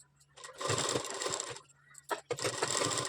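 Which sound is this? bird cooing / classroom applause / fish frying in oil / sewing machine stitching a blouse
sewing machine stitching a blouse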